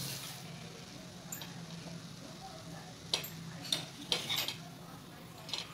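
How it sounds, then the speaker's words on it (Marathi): A curd sandwich toasting in butter in a pan gives a faint, low sizzle, broken by several light clicks and taps of a utensil or spatula in the second half. "ह्या बाजूने बटर टाकायचं अजून. सगळ्या बाजूने मग ते खमंग भाजेल दोन्ही पण"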